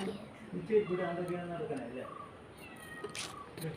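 Several short, high cat meows come close together, with a person talking quietly underneath.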